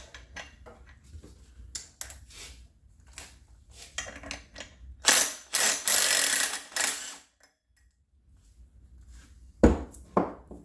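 A ratchet wrench works a pulley loose on a Briggs 10HP engine from a Black Widow, with short bursts of clicking ratchet strokes separated by quiet pauses and a few sharp knocks.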